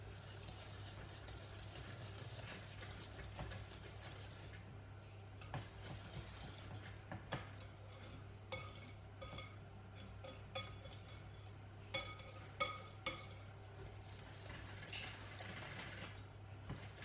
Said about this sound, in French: On va mélanger avec la cuillère le chocolat et le beurre fondu